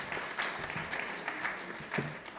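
An audience at a book launch event applauds, a sustained round of clapping from many hands at moderate distance, without speech.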